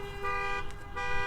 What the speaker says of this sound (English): If so, let us know with a honk.